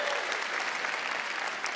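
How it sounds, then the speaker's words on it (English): Audience applause fills a large keynote hall at the Adobe MAX 2025 conference, a steady wash of many hands clapping at moderate level without a break for nearly two seconds. "Appreciate the clap."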